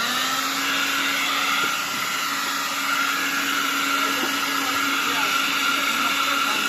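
Compressed air blasting dust out of a fan in a 13-year-old LG refrigerator that had stopped cooling and whistled, a steady loud broadband hiss with a faint tonal hum running throughout.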